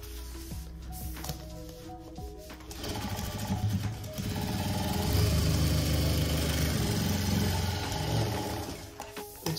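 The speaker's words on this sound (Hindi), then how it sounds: "सिलाई कर देंगे।" Sewing machine stitching a bag made from an old rice-flour sack, starting with short bursts and then running in a fast continuous whirring rattle, fairly close, without speech.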